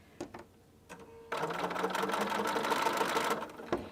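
A sewing machine stitches quilt seams at slow speed, a steady close whirring hum of needle and motor after a few faint clicks, running alone for about two seconds before stopping.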